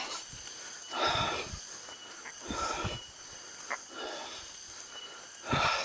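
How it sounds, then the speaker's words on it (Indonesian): Heavy, breathy panting from someone hiking uphill in the Cilengkrang valley of Kuningan, Indonesia, a series of loud, close, ragged exhalations in uneven bursts with quieter gasps between. "Cukup ngos-ngosan."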